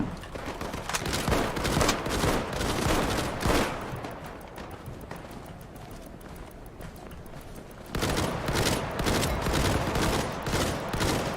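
Gunfire from a gun in the World War II shooter game Battalion 1944, sounding as rapid bursts of shots close by, with a quieter lull in the middle before firing resumes.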